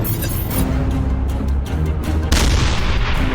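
Heavy 105 mm tank cannon fire during a desert armored battle in Sinai in the 1973 Arab-Israeli war: a loud, continuous rumble of overlapping booms and blasts, with a sharper burst of firing partway through.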